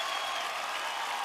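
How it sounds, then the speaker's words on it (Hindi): Faint, even wash of audience applause from a large crowd at a televised awards show, following a children's performance, with no voices over it. "एक बार जोरदार तालियां बनती है यार।"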